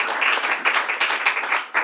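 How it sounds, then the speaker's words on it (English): Applause from a crowd honoring restaurant owner Angela Terry at a New York governor's announcement, a brief burst of clapping with uneven pulses, moderately loud and close, with no talking over it. "let's give another round of applause to Angela Terry"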